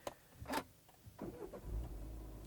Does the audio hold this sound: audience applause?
no